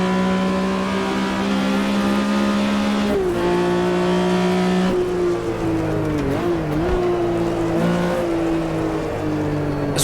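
A Porsche 911 RSR 3.0 races round the 1970s Red Bull Ring in the AMS2 racing game, its engine droning loud and steady, dropping through gear changes and rising again, with a brief tyre scrub midway.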